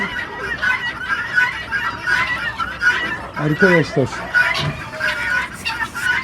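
Roosters and young chicks cluck and crow in a coop on a Turkish egg farm, a steady busy flock murmur with sharper calls, while a person speaks over it.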